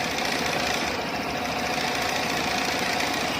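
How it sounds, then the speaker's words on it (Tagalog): Suzuki Burgman Street scooter engine runs steadily with a continuous rattling mechanical knock from a noisy valve lifter, heard close up with no talking. "napakaingay ng lifter"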